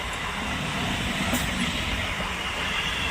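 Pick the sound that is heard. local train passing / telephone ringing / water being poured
local train passing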